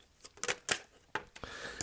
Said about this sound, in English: there may be moments of silence while I'm shuffling the cards